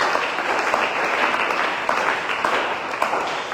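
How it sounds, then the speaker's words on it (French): A church congregation applauds steadily, dense overlapping hand claps forming a continuous, fairly loud roar of clapping throughout. "Acclamons très fort notre Seigneur."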